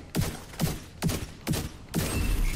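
Video game gunfire from a weapon in a status build plays out as five heavy, evenly spaced shots, each with a booming cannon-like punch, loud and close, with no talking.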